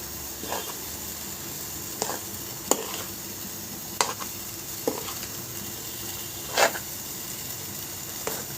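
Grated coconut with ground cardamom sizzles steadily in a hot pan, a constant soft frying hiss broken by periodic scraping stirs of a spoon.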